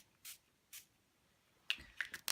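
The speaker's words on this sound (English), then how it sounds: "This is Tim Holtz Distress Spray Stain, Walnut Stain." Tim Holtz Distress Spray Stain in Walnut spritzed onto a cedar wood craft piece, heard as two short separate hissing bursts, then a denser cluster of quick sprays and rustling near the end, close and fairly quiet with no talk.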